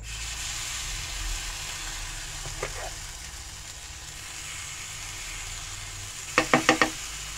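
Batter with baking soda sizzles softly in a pan with a low continuous hiss, a faint tap near the middle and a quick cluster of sharp clinks toward the end.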